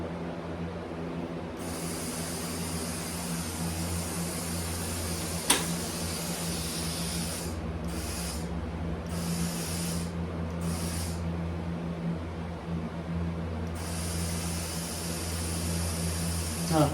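A powder coating gun with a suspected fluidizer leak sprays powder in a steady, loud airy hiss that cuts in and out in several bursts over a constant low compressor hum.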